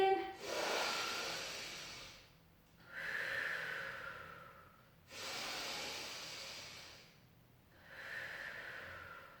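Slow, deep breaths during a gentle pilates stretch, four long airy inhales and exhales separated by short quiet gaps, close and fairly soft.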